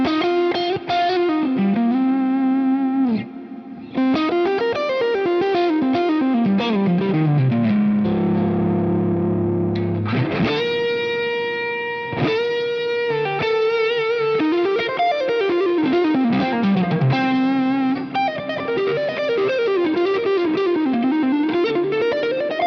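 Electric guitar played through a Line 6 Helix preset with a fuzzy, slightly distorted edge and reverb, sustained melodic lead phrases with bends and held notes ringing continuously throughout.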